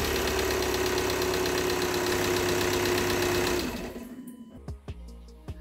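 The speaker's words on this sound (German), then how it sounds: "Jetzt ist der Turbolader auf jeden Fall geschmiert worden und jetzt kann das Fahrzeug starten." Diesel VW T5 2.5 TDI van, after a turbocharger replacement, running with a fast rattling clatter close by, then cutting out into quieter space with a few scattered knocks and clicks.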